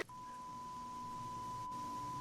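A single steady high-pitched beep tone drones on without a break over a quiet background hiss.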